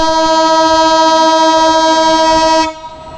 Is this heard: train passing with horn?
yes